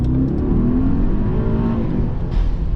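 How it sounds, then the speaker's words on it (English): A 2023 Mercedes-Maybach GLS900 Brabus Rocket accelerates hard from inside the cabin, its engine note rising steadily with a whirring turbo over a deep, loud rumble. "I love the turbo noise."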